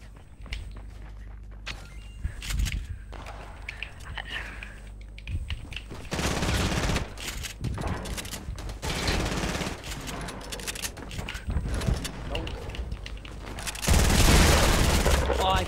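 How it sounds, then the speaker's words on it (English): Shotgun blasts and scattered gunfire sound in a Fortnite free-for-all match, arriving in irregular bursts with footsteps between them and players talking over the action. "All I'm hearing is shotguns."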